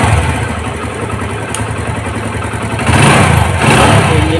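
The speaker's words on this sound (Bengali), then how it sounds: "গাড়িটি স্টার্ট দেওয়া হয়েছে" A 2023 TVS Metro 110cc motorcycle with 17,000 km idles right after starting, a close steady putter with a brief rise in engine noise near the end, no voices.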